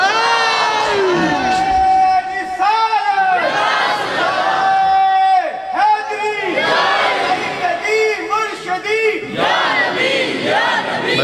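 A large religious gathering at a Milad-e-Mustafa event chants the takbir in loud unison, the massed voices rising and falling in repeated call-and-response bursts that fill the space.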